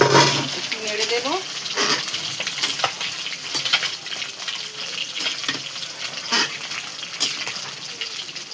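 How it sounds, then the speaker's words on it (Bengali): A lid lifted off a pan of Bengali prawn curry (chingri macher chorchori), then spoon scraping and stirring through the sizzling, simmering mixture with scattered clinks and knocks, close and moderately loud. "তরকারির ঢাকাটা খুলে একটু নেড়ে দেব।"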